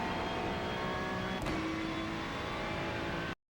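A Ferrari 296 GT3 in iRacing at Brands Hatch runs a steady, sustained engine drone as it builds on the gas in third gear, then cuts off abruptly at the end.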